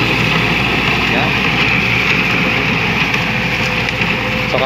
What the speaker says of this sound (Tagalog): titirahin na agad niya yan ang traktora